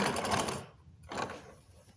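A worn grinding wheel on a vintage 1920s Luther hand-crank grinder whirs and rasps against metal in two short close bursts, separated by a brief pause.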